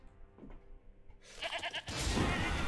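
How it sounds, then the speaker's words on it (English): A goat bleats in the card game TES Legends, a short wavering cry that arrives abruptly after quieter game tones and swells into a loud, dense burst of game effects. "The last thing I expected to see was a fucking goat."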